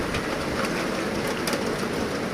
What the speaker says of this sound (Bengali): চলুক, কতক্ষণ চলছে বৃষ্টি